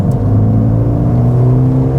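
A Mercedes-AMG A35 hatchback in Sport Plus mode gives a deep, loud engine drone with a low rumble and steady whir from inside the car, with no talking.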